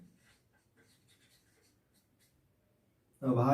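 Faint scratching of writing during a maths lesson, soft and steady for about three seconds before a sudden loud burst of sound at the end.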